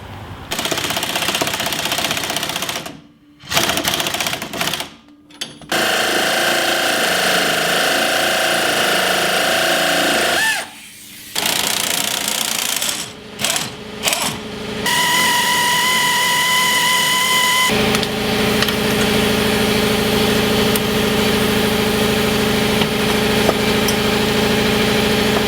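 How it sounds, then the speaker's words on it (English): An air impact wrench works on coil spring bolts during a car suspension repair, with long sustained buzzing hammering bursts broken by short pauses, loud and close, then a steadier mechanical hum. "hopefully I can use the impact wrench on this side"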